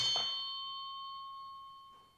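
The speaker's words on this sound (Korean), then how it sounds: "이 종이 울리는 순간" A bell struck once to open a worship service, a bright metallic ding with a clear ringing tone that hangs and slowly fades, heard alone.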